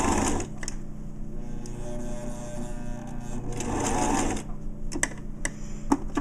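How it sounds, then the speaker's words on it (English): A sewing machine zigzag stitches a fabric patch onto a pair of jeans, its steady motor hum and rapid needle clatter running continuously up close, broken near the end by a few short clicks. "I have my jeans in the machine, and I've got my presser foot down, and I'm just gonna swing in here and do a zigzag."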